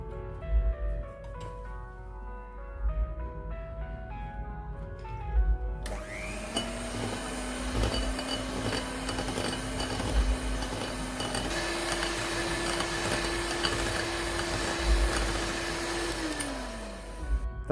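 Dates cake batter with powdered sugar is beaten, first with soft scraping and taps, then a loud electric mixer whine that runs steadily, changes pitch partway and winds down at the end.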